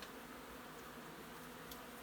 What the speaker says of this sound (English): Good many bees in there. They seem to be pretty calm.